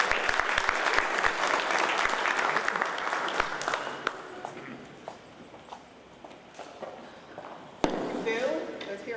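Luncheon audience at a North Miami business event clapping for the mayor, dense applause with sharp individual claps that gradually thins and fades, then a brief burst near the end.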